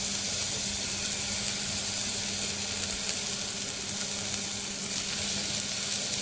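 Tomato, carrot and potato sautéing in a pan for baby spinach dal khichdi, a steady, dense sizzle close by with faint stirring underneath, unbroken from start to finish.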